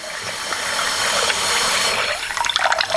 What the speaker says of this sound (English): So as long as you see the cloudy water, you have to keep washing your rice.